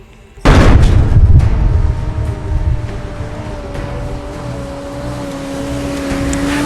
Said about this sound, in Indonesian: ledakan tersebut berasal dari depot minyak yang diledakkan